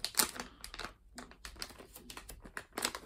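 Slow tearing of a Disney Villains Wishables blind bag, close crinkly plastic rips and crackles in short uneven bursts with brief pauses, no talking.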